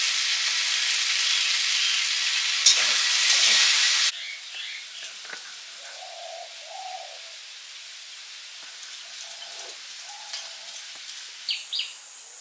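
Food for a potato curry fries in a pan, a steady sizzle and hiss that is loud at first, then drops to a quieter crackle with occasional pops and faint bird calls in the background.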